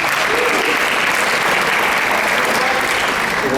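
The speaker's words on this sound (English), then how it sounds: "we can give you a round of applause" Steady, dense applause from an audience at a talk about a hot dog restaurant film, loud and sustained throughout with a faint murmur of crowd beneath.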